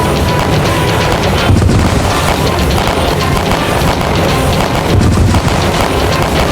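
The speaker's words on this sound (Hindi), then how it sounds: "अपने सिपाहियों पर गोलियां बरसा रहा है।" Loud, dense gunfire crackles continuously, with heavy booms and bursts layered together like a battle raging close by.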